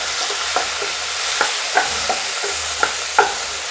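Chopped tomato sizzles and fries in a pan while a spoon stirs it, with regular sharp scraping taps about twice a second over a steady hiss, close and alone.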